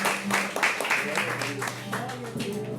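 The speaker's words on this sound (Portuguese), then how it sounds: "Aplauda o nome de Jesus." Church congregation applauding during a sermon: brisk, uneven clapping from a group, close and loud, with voices and a sustained sung or spoken tone running underneath.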